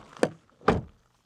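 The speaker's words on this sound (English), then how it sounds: "Then the door closing sound." Two solid thunks of a Nissan Ariya Nismo electric SUV's door shutting, close and fairly soft, spaced about half a second apart in an otherwise quiet setting.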